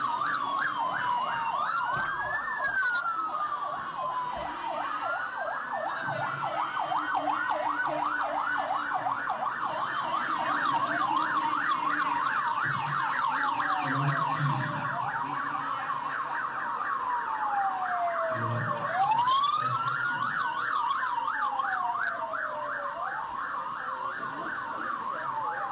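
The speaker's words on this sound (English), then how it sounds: "you most likely will get to see the president's convoy coming in with the loud sirens into the Eagle Square" Several wailing and yelping sirens from the president's convoy arriving at Eagle Square during an APC party convention, loud and continuous with overlapping sweeping tones and a busy crowd murmur beneath.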